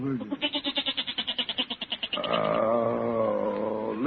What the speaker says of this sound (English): listen to that goat